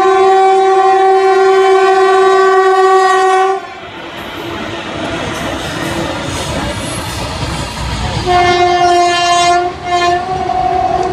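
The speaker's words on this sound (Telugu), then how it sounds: "What a Hawking." A passing train near Gondia sounds its horn in two long, loud, sustained blasts separated by several seconds of rumbling wheels and clatter on the tracks.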